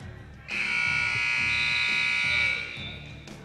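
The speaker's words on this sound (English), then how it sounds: "the timeout horn goes down to 0" At a high school varsity volleyball match in a gym, the timeout horn sounds as a single loud electronic buzz lasting about two seconds, then cuts off, with a faint crowd murmur around it.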